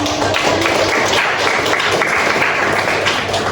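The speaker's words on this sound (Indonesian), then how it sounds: "Oke, tepuk tangan." Dense, loud applause from a room of university students in a teaching session, a continuous wash of many hands clapping with no talk over it.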